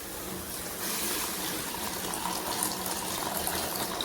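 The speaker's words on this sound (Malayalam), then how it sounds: "ഇനി വാഴപ്പിണ്ടി നീരൊഴിക്കാം." Juice of banana stem pours into a pot of tamarind-based rasam, a continuous close watery gush with small splashes rising in strength after the first second and running to the end.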